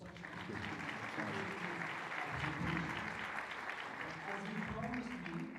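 An audience at a university materials-science seminar at KFUPM applauds the speaker, a continuous, fairly soft rustle of many hands clapping together that holds steady for several seconds, with faint voices mixed in beneath it.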